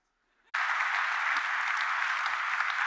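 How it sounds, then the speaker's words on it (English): A sudden burst of loud audience applause and cheering starts after a brief quiet moment, then holds steady and dense to the end. "I don't know why you're cheering."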